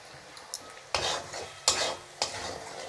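Ingredients fry with cumin paste in a pan for a dim mukdal dish, giving a low sizzle under three distinct scraping stir strokes spaced about a second apart, close and without speech.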